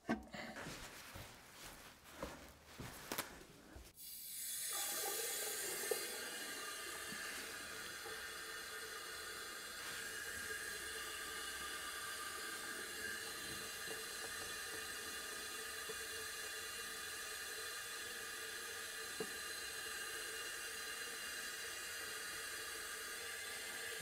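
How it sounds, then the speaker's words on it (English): Cold water running from a newly installed sink tap on a DIY countertop, a steady hiss that starts abruptly after a few seconds of clattering handling noises and continues evenly to the end. "The cold water is working."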